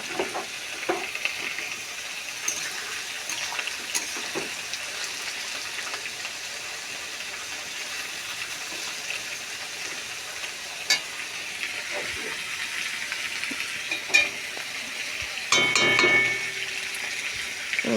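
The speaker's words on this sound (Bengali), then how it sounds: "পেঁয়াজটা আমি ভেজে নিচ্ছি ভালো করে," Onions fry in a pan for a chicken curry, giving a steady, close crackling sizzle with occasional spoon scrapes and a brief clatter of stirring near the end.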